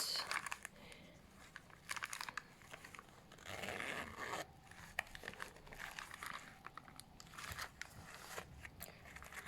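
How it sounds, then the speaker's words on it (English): A zipper on the zip pocket of an A6 planner is handled at close range, giving rasping zip pulls mixed with crinkly rustling and tapping. "here we have like a zip pocket"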